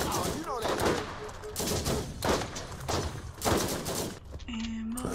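Turret gunfire in the Borderlands video game, bursts of loud automatic shots rattling steadily, with brief electronic game tones mixed in near the end.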